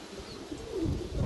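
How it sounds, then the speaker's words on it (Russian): Pigeons coo softly from a loft, a low murmuring rise near the end of the short stretch, with no talk over it. "Вот она голубята."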